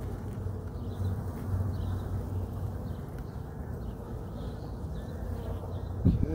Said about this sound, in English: Good size hive here.